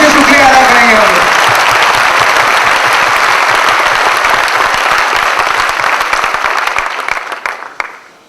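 A loud, dense burst of audience applause at a motivational talk, thundering steadily for several seconds, with a voice briefly over the start and the clapping thinning into scattered claps at the end.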